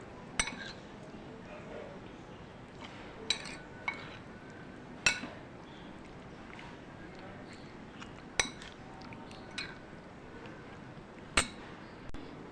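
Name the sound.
mixing dahi boondi chaat with white cumin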